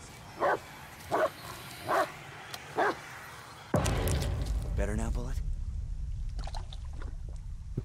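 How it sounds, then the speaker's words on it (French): Dog in the Blair Witch video game gives four evenly spaced barks, moderately loud with a faint ambient bed, before a sudden loud burst of rumbling noise and rustling takes over. "Rien que d'entendre le chien aboyer."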